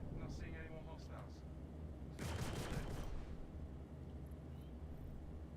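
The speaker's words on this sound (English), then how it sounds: "Oh man, those explosions are cool." Explosions crackle in the Star Citizen video game, a couple of small bursts early then a louder rolling blast that fades into a low rumble, with a voice talking over the noise.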